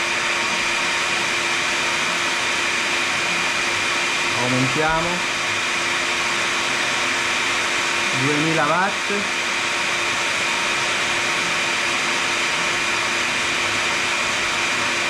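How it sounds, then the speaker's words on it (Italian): A hair dryer and a hot brush running together off an EcoFlow Delta Max portable power station, giving a steady loud blowing whir with two brief rising pitch sweeps as the dryer speed is stepped up, while a voice speaks over it. "Adesso accendiamo l'asciugacapelli, aumentiamo"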